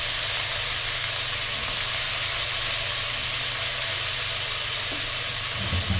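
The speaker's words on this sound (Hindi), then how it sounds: "इसी के साथ में डालूंगी आलू, ताकि आलू फ्रेश हो जाए, करारे बने, ताकि ताकि ये फ्राई हो जाए फिर" Potatoes frying in a pan for an aloo, cabbage and peas sabzi, a loud, dense and steady sizzling hiss that carries unbroken throughout, with a faint low rumble underneath and no speech.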